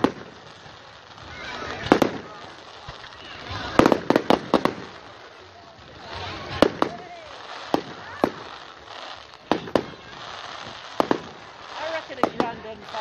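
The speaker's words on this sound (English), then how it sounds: "I reckon a grand on fireworks." Fireworks burst at a firework show, with scattered sharp bangs and crackling pops, some in quick clusters, over a background of crowd voices.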